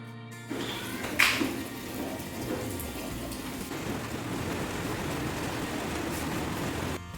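Steady rain falling outdoors in a garden, a constant soft hiss with a brief louder patter near the start, continuing evenly throughout.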